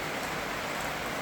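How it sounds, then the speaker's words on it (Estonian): Steady rain falls outdoors during a trip through Moldova and Romania, a continuous dense hiss of drops spread evenly across the clip with no distinct individual hits and no voices. "Ainult, et vihma hakkas sadama."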